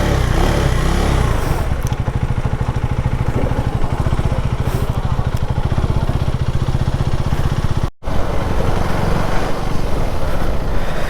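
A motorcycle engine runs steadily and loudly up close during riding, with a dense, even, throbbing drone that cuts out very briefly near the end.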